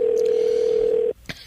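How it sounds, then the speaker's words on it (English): A telephone sounds on a call as a steady, clear tone held for about a second before it cuts off, followed by a faint short click. "I like the ringing."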